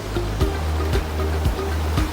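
River water rushing steadily in a Philippine countryside stream flowing toward Cagayan de Oro, a continuous broadband wash with soft repeated surges about every half second.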